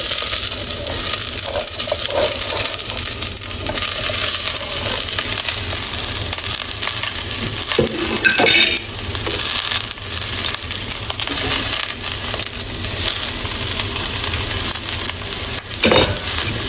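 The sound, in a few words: vegetables added to a pan and sautéed for soup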